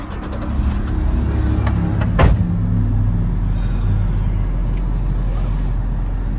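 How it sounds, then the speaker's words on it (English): A 1993 Suzuki Carry kei van with automatic transmission drives along, its steady engine drone and road rumble continuous throughout, with one brief sharp transient partway through. "So you can actually ride a key vehicle with comfort if you have automatic tranny."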